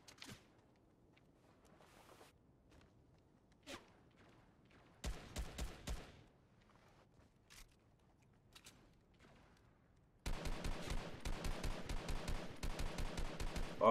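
Gunfire in Fortnite comes in scattered single shots at first, then bursts of rapid automatic fire, ending in a loud sustained stream of shots close by.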